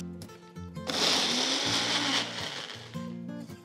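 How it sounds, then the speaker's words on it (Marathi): A kitchen mixer grinder whirs loudly for about two seconds as it blends yogurt, crushed roasted peanuts, salt and a little sugar into chutney, with quieter tones before and after the burst. "हे एकत्र मिक्सरमध्ये फिरवून याची छान चटणी तयार करून घ्यायची"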